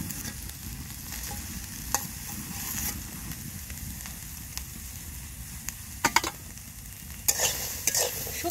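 Potatoes frying in oil, probably in a village kitchen, a steady close sizzle with scraping and stirring knocks from a utensil scattered throughout.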